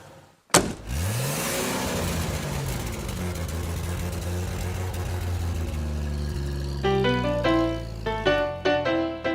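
A classic car used as a taxi (almendrón) in Cuba starts with a sharp thump, then its engine hums and revs steadily. Tonal, music-like sounds join over the engine near the end.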